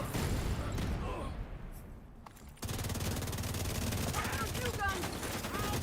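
Rockets fired in The Division 2, loud, dense bursts of explosive gunfire amid chaotic combat, briefly dipping before a sharp renewed blast and continued rattling fire, with a voice faintly present underneath.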